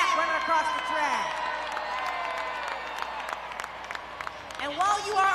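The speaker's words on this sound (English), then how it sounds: "keep that applause going" Arena crowd at a Monster Jam event in Portland applauding and cheering, a broad steady wash of clapping and shouts filling the space, with an announcer's voice and whistles over it.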